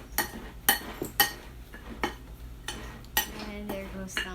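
A big spoon clinks and scrapes against a bowl while mixing gluten-free Italian breadcrumbs, about nine distinct knocks in an uneven rhythm, close and fairly quiet over a low background hum.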